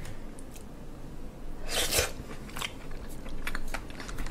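Someone chews raw sea squirt (meongge) up close, with wet squishy bites and a few louder crunchy bursts at irregular intervals over a soft background hiss.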